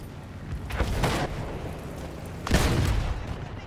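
Two heavy, rumbling cannon booms roughly two seconds apart in Battlefield 1, each a broad burst that lingers, set against a steady background din of game noise.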